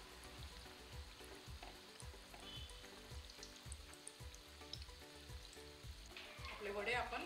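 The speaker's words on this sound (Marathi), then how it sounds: "छान दोन्हीकडनं फ्राय करून घेऊ" Potato vadas deep frying in hot oil give a steady close sizzle and crackle, with stirring scrapes at a regular beat and a burst of louder bubbling toward the end.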